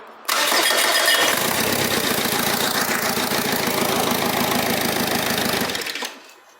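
A Mitsubishi Triton 4D56T 2.5 L turbo diesel, just rebuilt, cranks and catches, then runs with a loud, steady, rough clatter for several seconds before cutting off.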